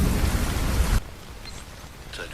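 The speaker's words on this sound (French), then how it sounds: "il pleut tellement fort ce matin" Heavy rain pours down hard on a morning in Québec, a dense loud hiss for the first second before dropping to a softer, steady patter.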